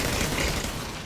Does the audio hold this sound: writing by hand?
no